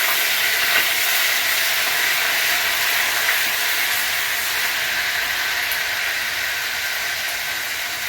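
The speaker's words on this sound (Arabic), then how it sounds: "نزلنا بيها كده في الحله، هديها تشويحه" Garlic with hot red and green peppers and squeezed lemon sizzles steadily in a cooking pot, a constant bright frying hiss with no speech.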